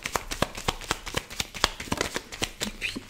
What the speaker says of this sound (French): on va mettre chaque fois 3 cartes par mois